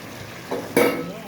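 A pan of egg and potato curry is briefly stirred, giving a short scrape and a soft sizzling stir close by, with quiet background before it.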